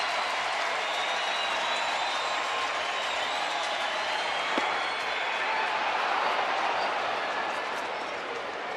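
Large baseball crowd of over 46,000 roaring and applauding at Rangers Ballpark in Arlington during a late-inning strikeout bid, a steady, dense wall of cheering that swells slightly and holds throughout.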